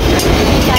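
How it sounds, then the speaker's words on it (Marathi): A train pulls into a station on the way to Titwala, giving a loud, steady close rumble of rolling wagons that fills the whole short moment without a break. "अशा प्रकारे आमची ट्रेन आलेली आता"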